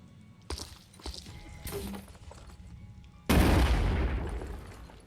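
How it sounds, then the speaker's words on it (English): A grenade detonates in the video game Phoenix Point: scattered lighter combat sounds are followed by one sudden loud explosion that rolls on and slowly fades. "let's see if we can do it in one blow here, or if it's going to take multiple grenades"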